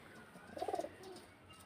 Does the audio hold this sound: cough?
no